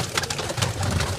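A pigeon broods on its eggs with soft, low cooing that repeats close by, a steady murmur running under light rustling for a brief moment.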